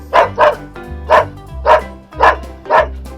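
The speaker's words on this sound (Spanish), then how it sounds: "El perro ladra." Dog barking from a farm-animal learning toy, six sharp, loud barks in a quick uneven rhythm over a steady tonal musical backing.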